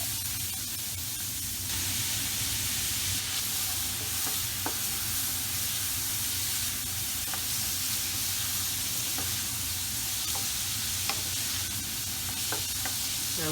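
Diced brown onion frying in vegetable oil in a pot gives a steady, close sizzle with occasional stirring clicks, continuous throughout with no talking.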